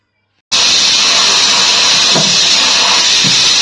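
Steam hisses loudly and steadily from a pressure cooker whistle on a gas stove, one of two cookers holding chickpeas and rice. It starts abruptly and runs unbroken to the end.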